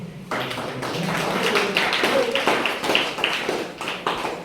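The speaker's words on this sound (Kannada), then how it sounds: "ಚಪ್ಪಾಳೆ ಹೊಡೆದ್ರಿ" A school event audience breaks into steady applause after a brief quiet moment, many hands clapping at a moderate distance while voices carry on faintly underneath.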